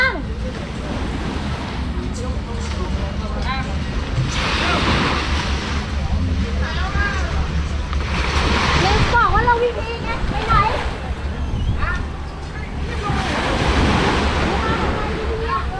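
Ocean waves wash up on a beach on Phi Phi island, Thailand, where wooden tourist boats are moored, with three big surging swells over steady wind and background voices.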